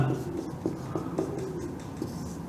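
A marker squeaks across a board while a math problem is written out, several short strokes in an uneven rhythm under someone speaking in Hindi.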